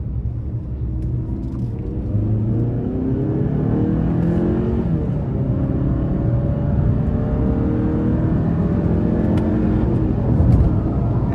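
A 2025 Hyundai Santa Cruz Limited 2.5T turbo pickup accelerates hard onto an interstate in sport mode, engine rising steadily with audible upshifts and a sustained rumbling roar, no talk.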